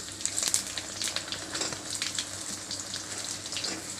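Boiled green mango pieces frying in hot oil with dried chillies and panch phoron: a close crackling sizzle with irregular spitting pops, moderately loud and uneven, with no voice.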